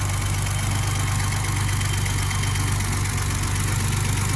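A warmed-up BMW 635CSi E24 with its M30 inline engine idles steadily, a close, even, low rumble with a smooth continuous drone and no voices.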